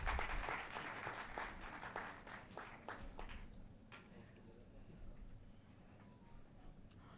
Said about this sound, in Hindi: अभिनंदन कीजिए, स्वागत कीजिए तालियों से।